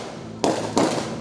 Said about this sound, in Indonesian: gangguan berupa tembakan dari kelompok KKB yang sudah terlebih dahulu menguasai ketinggian